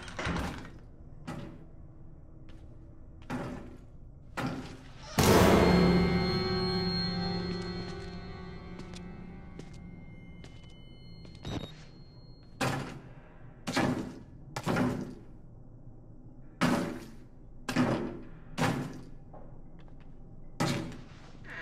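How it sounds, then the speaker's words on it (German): A butcher smashing through doors in the Outlast Whistleblower video game: a heavy crash with a ringing, resonant tail, followed by a long series of evenly spaced loud thuds and bangs, fairly close. "Und man hört ihn schon durch sämtliche Türen brechen."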